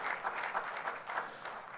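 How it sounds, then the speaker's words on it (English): Applause for fifteen scholarship winners at an education awards ceremony in San Diego, a steady wash of clapping from an audience that keeps a fairly even level for the whole stretch. "Let's give a round of applause to all 15 of our"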